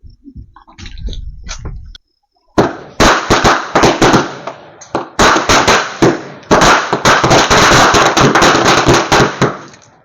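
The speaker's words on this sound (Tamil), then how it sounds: "அடுத்து பார்த்தீங்கன்னா இந்த 100 வாலா வைக்கலாம்." A long, rapid string of 100 firecrackers pops loudly and continuously, dense crackling bangs running for several seconds after a brief pause.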